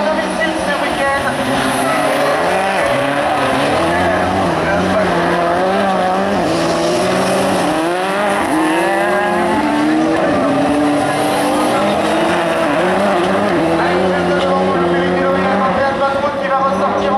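Rallycross Supercars racing at Lohéac, Brittany, engines roaring loud and continuous as the cars slide through a slippery corner, with tire squeal and a commentator talking over the action.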